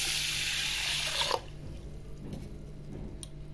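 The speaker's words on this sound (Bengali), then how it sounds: "এবার এই আতপ চালটা আমি 2 থেকে 3 বার ভালোভাবে ধুয়ে নিব" Atap rice rinsed in water: steady running-water rush that cuts off abruptly, followed by faint drips and small wet sloshes, close and alone.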